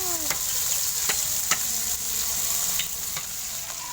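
Fish frying in hot oil, a steady loud sizzle with occasional sharp pops and crackles throughout, no voices over it.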